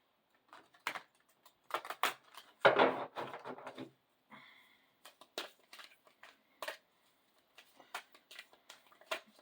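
A deck of cards being shuffled by hand: quiet, close, scattered flicks and taps with one denser rustling burst in the middle, then more sparse clicks, with no talk.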